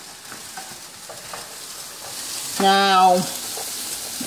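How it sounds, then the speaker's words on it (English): Celery and onions fry in a pan for a spicy chop suey, giving a steady close sizzle throughout. A short spoken word and a brief tonal sound come over it near the middle. "our celery and our onions are cooking."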